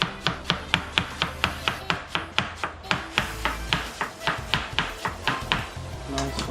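A knife chops cabbage on a cutting board for Baja-style striper tacos, about twenty steady, crisp strokes at a quick even rhythm, close and clear with no talking.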